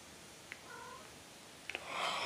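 A house cat gives a couple of soft, short meows in a quiet room, followed by a brief rustle, with no talking.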